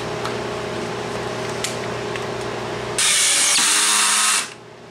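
Pins are driven back through a homemade drill press table with a power tool, a steady motor whine that jumps into a loud, bright burst of about a second and a half before cutting off.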